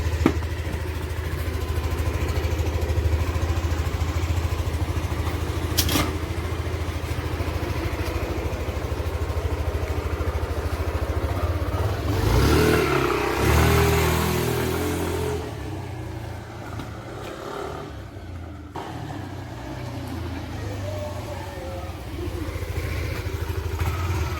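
A 2022 Yamaha NMAX scooter with freshly replaced CVT rollers and springs idles steadily nearby. Its engine note rises briefly in the middle before settling back to a low, even run.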